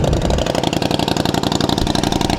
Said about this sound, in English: I'm not sure what this exhaust is all about, but looks stock, but it's loud as hell.